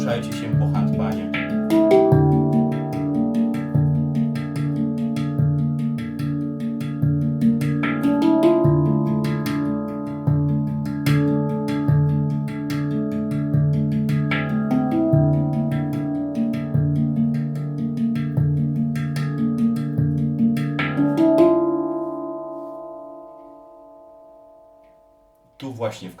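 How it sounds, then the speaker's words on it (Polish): A handpan rings out in a slow sequence of struck notes, each tone sustaining and overlapping the next with clear metallic harmonics, then fading to near silence at the end. "Zmieniajcie, poruszajcie się po handpanie."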